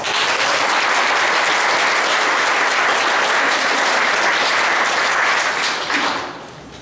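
An audience gives sustained, dense applause to welcome a lecturer at a history talk in San Jose, steady and loud for about six seconds before tapering off.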